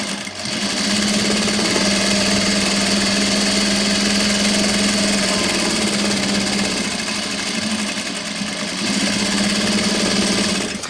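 An umbrella maker's sewing machine stitching umbrella fabric in a workshop in Blois, France, running in a loud, steady mechanical whir that continues almost unbroken for the whole stretch, with only a brief dip in pace.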